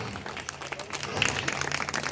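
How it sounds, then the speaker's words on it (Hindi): Audience applause during a Republic Day function at a gurukul school in Hisar, Haryana; steady scattered clapping from a crowd continues throughout, moderately distant, with some voices mixed in. "सभी तालियों के साथ"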